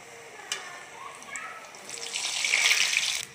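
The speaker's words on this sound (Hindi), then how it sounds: "इसको ब्राउन होने तक अब हमें तलेंगे।" Shakkarpara dough pieces fry in hot ghee, a faint bubbling sizzle that swells into a louder hiss toward the end.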